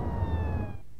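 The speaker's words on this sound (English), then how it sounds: "More sirens." A brief, steady police siren tone in the video game Max Payne sounds over a low rumbling engine, cutting off abruptly before the end.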